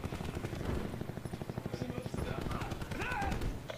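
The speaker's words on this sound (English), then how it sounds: "Another attack chopper" An attack helicopter in the Call of Duty Black Ops 4 video game roars with heavy rotor noise under dense bursts of gunfire, loud and continuous, with a player talking over it.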